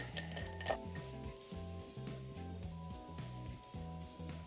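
A large ice cube knocks and clinks against a mixing glass as an Old Fashioned made with Maker's Mark is stirred, in a steady repeating rhythm of close, quiet rattles with no talking.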